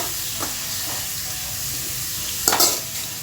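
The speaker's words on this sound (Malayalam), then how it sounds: "ഇനി നമുക്ക് ക്യാബേജ് ചേർക്കാം. ഇനി നന്നായിട്ട് ഇളക്കി കൊടുക്കുക." Cabbage thoran fries in a pan with a steady low sizzle while being stirred, soft scrapes early on and a sharp metallic clatter of the spoon against the pan near the end.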